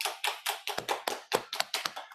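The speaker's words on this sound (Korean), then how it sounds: "우리 환영의 박수" Welcoming applause from a classroom group, a run of about a dozen sharp, evenly spaced hand claps close by, with no voices over them.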